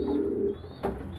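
A young squab pigeon being hand-fed coarse feed with a feeding tool gives a soft, low coo for about half a second. A brief rustle follows, all fairly close and quiet.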